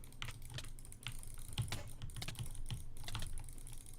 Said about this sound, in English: I'm sitting here clicking